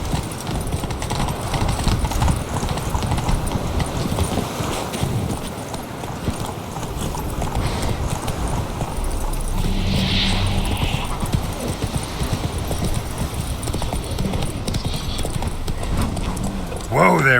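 Horse hooves clip-clopping steadily in The Witcher 3, a continuous close trotting rhythm under ambient game sound, with a voice talking over it and a brief whinny partway through.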